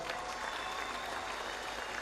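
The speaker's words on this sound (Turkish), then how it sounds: "Kendisini bir alkışlayalım arkadaşlar." In Istanbul, an audience gives the mayor a dense, steady round of applause, many hands clapping at once throughout the short stretch.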